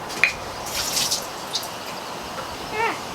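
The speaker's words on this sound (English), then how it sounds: "I'm going to pour all this water out right now and get rid of it." Pressed-out water from a block of tofu is poured off, giving light splashing and dripping with a few small trickles and splats, close and fairly quiet, with no talking over it.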